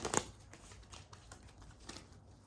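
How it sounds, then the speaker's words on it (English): Tarot cards are shuffled in a quick, faint burst of riffling at the start, followed by soft, scattered card taps and rustles close by in a quiet room. "One more shuffle."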